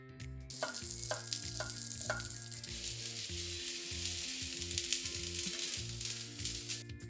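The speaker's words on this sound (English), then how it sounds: "We'll start by lightly charring our tomatoes to bring out all their sweetness." Tomatoes char in a hot pan with steady sizzling, a continuous hiss and occasional sharper crackles, close and fairly loud, with tonal music underneath.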